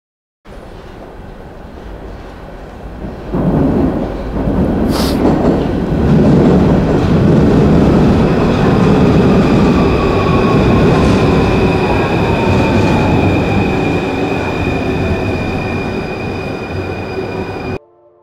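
A Paris metro train rumbles loudly past, wheels clattering and a long high squeal ringing over the roar before it fades at the end.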